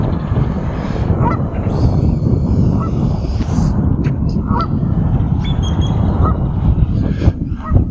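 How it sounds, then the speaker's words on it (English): Geese honk repeatedly outdoors in Tempe, Arizona, their calls moderately loud and scattered over a steady bed of wind and rumbling background noise. "Oh, we've got some geese."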